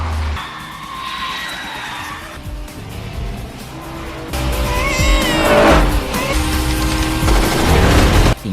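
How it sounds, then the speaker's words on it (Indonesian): Cars ramming each other during a chase in an action film, with engines roaring, tires squealing and skidding, and heavy impacts, all loud and rising in intensity toward the end, alongside a faint music or effects bed. "Kemudian Smith dan satu mobil anak buah Cole berusaha saling menabrak."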